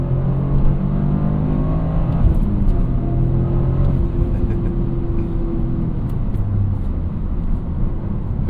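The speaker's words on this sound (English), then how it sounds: "it's so fun to go through the gears on here" Toyota GR Corolla engine pulling through the gears at night, a steady loud rumble with rising and falling pitch across each shift, heard from inside the car with no talking.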